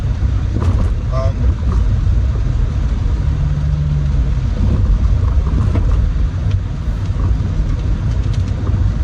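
A Nissan G35 drives through the rain, close to the microphone, with a heavy, steady low rumble of engine and road noise over wet tire hiss that runs the whole time.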